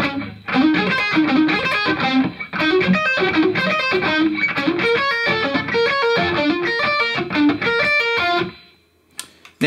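A distorted electric guitar plays a section of the solo at a slow, deliberate pace, notes ringing one after another before fading out.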